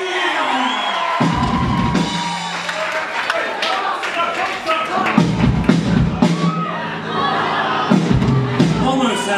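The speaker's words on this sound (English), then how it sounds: "Round of applause for Alex." A live concert crowd at a cultural centre applauds and cheers, with whoops and some thumps, while a voice talks over the sustained noise.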